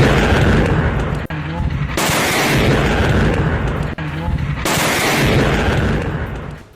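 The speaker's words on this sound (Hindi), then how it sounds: "जमीन से मिसाइल टकराई, वहां जोरदार धमाका हो गया" A missile striking the ground in a massive explosion, heard as loud, sustained roaring blasts with two sharp breaks between dense rumbling bursts, close and overwhelming.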